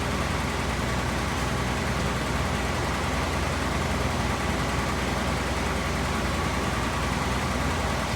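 A 1954 Chevrolet engine idles steadily while the transmission fills, giving a continuous, even broadband rumble with no change in pitch or level and no voices.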